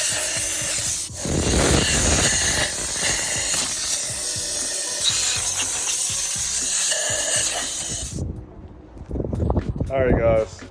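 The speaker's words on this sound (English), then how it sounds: "Cleaning up the welds and rounding them off and grinding them down." A grinder rasps down the welds on an aluminum intercooler from Facebook Marketplace, a loud, continuous abrasive grind lasting about eight seconds before cutting off, with someone talking over it.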